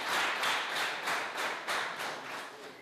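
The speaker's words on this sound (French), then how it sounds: "Applaudissez-le." An audience applauds in a steady wave of clapping, with rhythmic pulses suggesting people clapping in loose unison, fairly loud and without talk.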